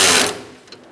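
A ratchet wrench clicks quickly while tightening a bolt on the AC condenser cooling fan assembly of a 2002-2006 Honda CR-V, a short, close burst of metallic ratcheting that fades fast.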